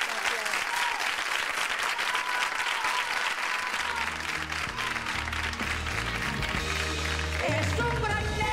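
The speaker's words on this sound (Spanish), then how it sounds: "Un aplauso para ellos, muy fuerte." Loud, sustained audience applause during a televised tribute special to Rocío Jurado, many hands clapping continuously while music with a low beat enters partway and plays underneath.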